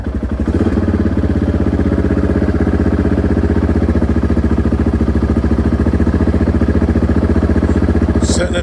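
A Honda XR650R motorcycle engine idles close and loud after a 200 watt stator upgrade, with a steady even thumping that runs for the whole clip and no talk.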